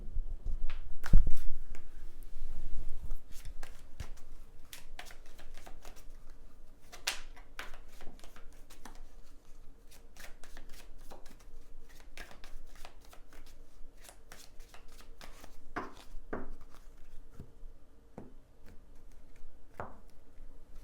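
Tarot cards are shuffled and dealt in a steady run of crisp riffling clicks and soft slaps, close and fairly quiet, with a brief heavier rustle near the start and no talking.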